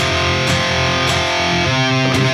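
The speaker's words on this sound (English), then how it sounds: "Again, the fourth string is muted, so it doesn't ring through. If it did ring through, it'd sound like this." Distorted electric guitar octave chords with the unmuted fourth string ringing through, a thick, buzzing wash struck in several repeated hits, loud and sustained.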